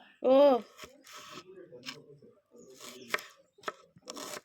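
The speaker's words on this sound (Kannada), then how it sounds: "ಮತ್ತೀಗ ಆನಿಯನ್ಸ್ ಕಟ್ ಮಾಡ್ಕೊಳ್ವಾ" Onions being chopped with a knife at home, a few sharp separate knife strikes against a board alongside close, quiet speech.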